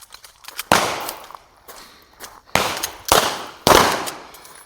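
Shotgun blasts at a shooting seminar, several loud close reports spaced a second or so apart, each with a sharp crack and a trailing echo, with no talk in between.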